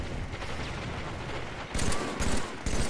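Gunfire in Halo: The Master Chief Collection on the Standoff map, a steady rattle of rapid shots that swells into louder, punchier bursts toward the end.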